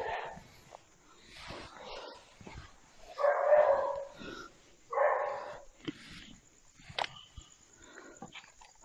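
A dog barks several times in short bursts, mid-distance, mixed with whimpering yips and a person speaking in between.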